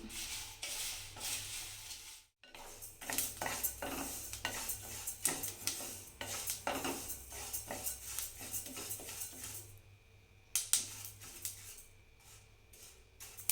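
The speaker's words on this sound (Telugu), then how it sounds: "చూడండి ఎంత బాగా వేగుతున్నాయో ఇందులో ఒక నూనెనే లేదు" Dry scraping and rattling of ingredients being dry-roasted without oil in a pan over low heat, a quiet rustling shuffle with irregular clinks of a spoon on metal.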